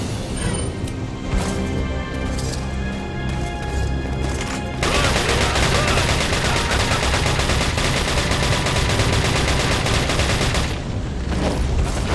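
Rapid gunfire from Resident Evil 4 on Professional mode, dense overlapping shots and bursts over a loud, busy game soundtrack, continuous and intense across the whole stretch.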